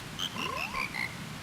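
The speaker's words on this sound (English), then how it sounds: "Let us begin our chorus. And we get a cutscene of frogs" Frogs sing a chorus in a The Legend of Zelda: Majora's Mask cutscene: a steady run of bright, bubbly croaking notes with one rising gliding tone, clear and moderately loud over a soft, washy background.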